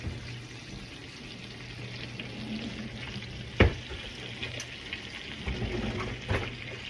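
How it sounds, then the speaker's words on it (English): Food sizzles steadily in a pan during home cooking, a continuous close frying hiss broken by a few sharp clatters of utensils, with no talking. "sorry, I'm cooking, guys, at the same time"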